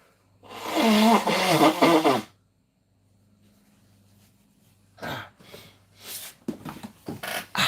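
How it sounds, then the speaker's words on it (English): A loud, wet nose blow lasting about two seconds, followed by quiet, then a few short snorts and sniffs. "quickly need to blow my nose here. Sorry for the noise."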